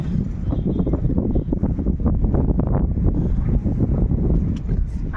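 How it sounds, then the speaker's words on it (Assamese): Strong outdoor wind buffets the microphone in a steady, loud rumbling roar throughout, with gusts rising and falling and a voice talking faintly in the background. "মানে ইমানে বতাহ দিছে।"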